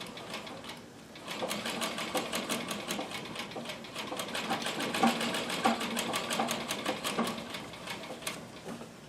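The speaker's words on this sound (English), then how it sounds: "I've got the machine threaded up." Royal Brother sewing machine stitching a long stitch length, a fast even needle clatter running steadily and fairly close with slight swells in loudness.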